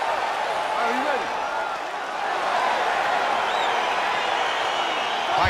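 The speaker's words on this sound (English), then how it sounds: "crowd getting excited as this fight gets underway." Virtual arena crowd in the UFC 4 fighting game, Bruce Lee vs Adam Copeland, roars in a steady, loud wash of cheering and murmur as the bout gets underway, continuous throughout.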